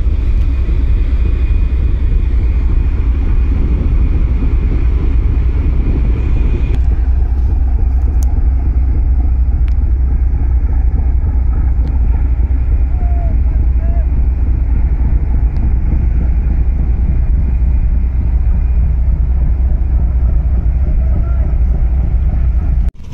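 The Sundarban 10 passenger launch travels on a Bangladesh river with a deep, constant engine rumble and wind buffeting the microphone; a high tone drops out partway through and no clear speech is heard.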